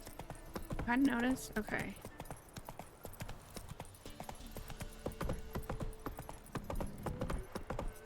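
In The Witcher 3 video game, the horse Roach's hooves clip-clop at a steady trot as game sound, with a short whinny-like note early on, while people talk over it throughout.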